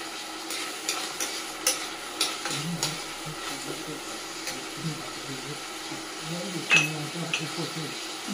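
Green peas and carrots, with quinoa, get stirred and fried in a pan, a steady low sizzle under repeated scraping and rattling strokes of a spatula.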